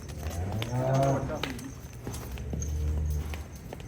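A mixed-breed dairy cow moos loudly twice, a long low call followed by a shorter one, with faint farmyard noise and hoof clatter in the background.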